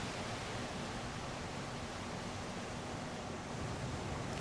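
Rushing water of a jungle waterfall in Mortal Online, a dense, steady broadband roar with no breaks or talk, heard as a constant wash throughout.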